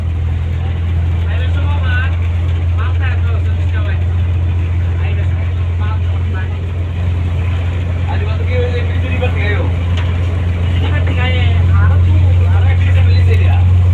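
Passenger launch engine at Showari Ghat in Dhaka, heard from inside the wheelhouse as a loud, constant low rumble under someone talking throughout.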